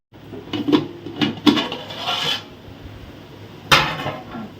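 Someone opens a tin of fish for a Sri Lankan fish curry. Several sharp metallic clanks and scraping rasps of the opener working the can come in bursts, followed by a final bright clink.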